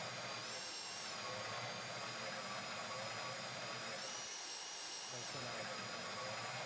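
A heavy drill bores into a bank vault door in the GTA video game, giving a loud, steady, high-pitched mechanical whine that runs continuously and nearby.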